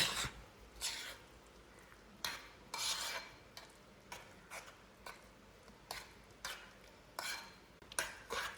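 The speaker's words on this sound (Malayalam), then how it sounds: "ഞാൻ നന്നായിട്ട് മിക്സ് ചെയ്ത്" Sandwich filling mixed by hand in a bowl, giving soft, rhythmic rubbing and squishing strokes in repeated short bursts, close up and without talk.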